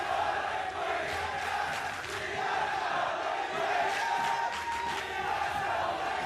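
Hyped esports arena crowd roaring and chanting throughout, a dense, loud wall of voices with rhythmic coordinated shouts and cheers.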